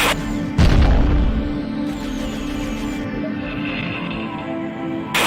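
Target blowing up in the underwater Aquanox game, a loud deep boom bursting out near the start, followed by sustained rumbling game noise and a second muffled thud.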